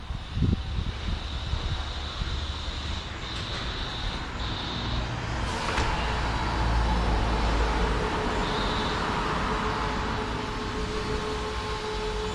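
An automatic car wash sprays cleaning agent over a car, a loud continuous hiss and rush of spray with machinery rumble and a few brief higher whines, heard from inside the vehicle.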